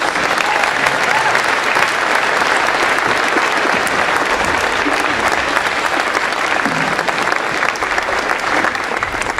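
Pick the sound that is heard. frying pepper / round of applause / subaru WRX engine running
round of applause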